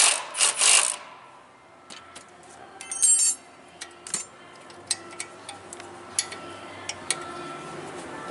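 Nuts being tightened back onto a Nissan Versa front strut, giving a string of sharp metallic ratchet clicks and clinks, close and moderately loud, spaced irregularly across the stretch with no talking.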